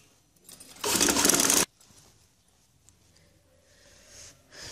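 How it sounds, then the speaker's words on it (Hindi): A sewing machine runs in one brief loud burst of stitching on a fancy kurti neckline, followed by quiet handling noises and a faint hum. "सिलाई लगा लें।"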